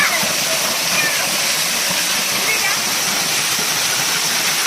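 Maasila waterfall in the Kolli Hills of Namakkal roars as a loud, constant rush of falling water, heard close and alone.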